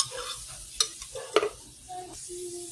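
Thick banana, oats and peanut butter batter being stirred in a bowl, soft scraping strokes with a couple of sharper knocks of the utensil against the side, close and fairly quiet with no talking.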